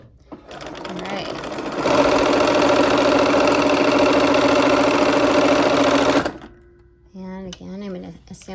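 A sewing machine stitches quilt block pieces together for a window pane quilt, a loud steady mechanical whir running for about four seconds. Someone talks just before and after it.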